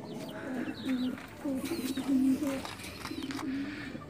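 Pigeons coo in a newly set-up loft, with low, repeated throaty calls in several overlapping bursts, close and moderately loud, and faint chirps behind them.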